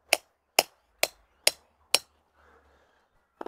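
A sleeve bolt hammered into rock: five sharp, evenly spaced metallic strikes close by, a pause with faint scraping, then two quick final taps.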